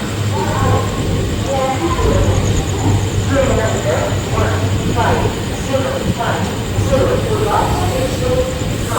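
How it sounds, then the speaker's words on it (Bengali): A delayed train stands at platform 2 of Bardhaman Junction, giving a loud, steady rumbling hum while a crowd of voices murmurs indistinctly throughout. "আমাদের ট্রেন এই মুহূর্তে পৌঁছে গেছে বর্ধমান জংশন।"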